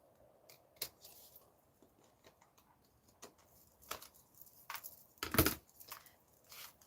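Paper for a junk journal is snipped and handled in scattered soft cuts and rustles, with one louder crisp crunch near the end, close and otherwise quiet.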